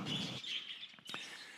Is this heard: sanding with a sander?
no